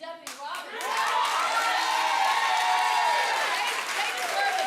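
An audience at a Harris County court drug program graduation applauds two uniformed deputies, a sustained, dense clapping from a crowded room that swells and holds steady, with a voice audible at the start.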